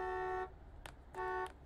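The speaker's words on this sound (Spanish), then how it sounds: "¿Pueden ver quién está tocando la bocina afuera, por favor?" Outside, a car horn gives two steady honks, each about half a second long, with a short gap between them. The honks sound muffled and moderately distant, with no one talking.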